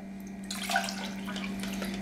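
Warm water runs from a kitchen tap into a measuring cup, filling past the 1.5-cup mark, a soft splashing trickle that starts partway in and continues quietly over a steady low hum.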